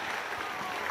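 A short, steady burst of crowd applause for Indonesian Vice President Gibran Rakabuming Raka at the 13th anniversary celebration of the Ora Aji Islamic boarding school in Sleman, dense and continuous throughout.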